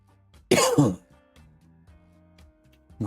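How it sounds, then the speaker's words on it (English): A single harsh cough of about half a second bursts out close and loud amid near silence, with faint low hum and a small sound at the end. "Not too bad for the cough."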